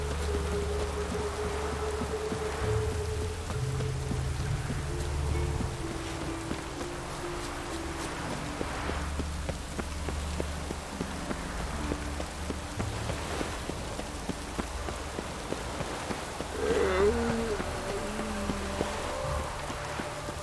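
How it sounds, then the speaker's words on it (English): Steady rain falls on surfaces in The Witcher 3: Wild Hunt, a constant soft hiss with patter under low ambient game tones for the full stretch, no talk. "It's always raining and gloomy here."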